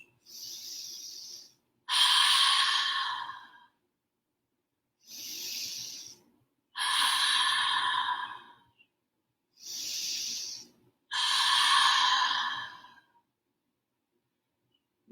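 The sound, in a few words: open mouth exhales during yoga fish pose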